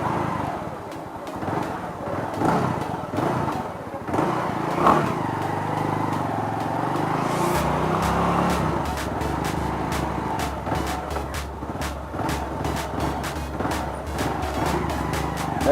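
A motorcycle rides through a neighborhood on back roads with speed bumps, its engine droning steadily near the mic and picking up a lower, stronger rumble partway through, with no talk over it.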